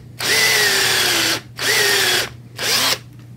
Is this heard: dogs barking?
no